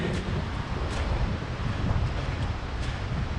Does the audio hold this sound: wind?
yes